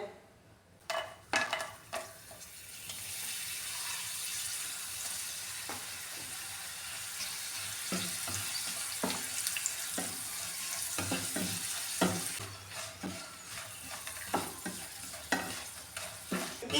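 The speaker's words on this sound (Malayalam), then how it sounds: "ഞാൻ ചെറിയ രീതിയിലൊന്ന് ഫ്രൈ ചെയ്തെടുക്കുന്നേ ഉള്ളൂ ഞാൻ ഇതിൻ്റെ ഫ്ലെയിം കുറച്ചിട്ടാണ് ഫ്രൈ ചെയ്യുന്നത്" Papadam frying gently in coconut oil over a low flame in a pan, a soft continuous sizzle with occasional crackles and light stirring knocks, close by, without talk.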